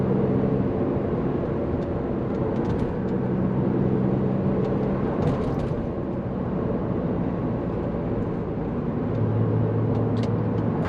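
A BMW Z3 roadster driving on backroads, its engine droning steadily with shifting tones as gears change, road and wind noise constant throughout, no talk.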